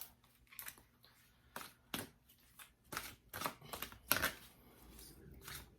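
Archetype oracle cards being shuffled at close range, a run of quick papery riffles and slaps in irregular bursts with brief pauses between them, no talking.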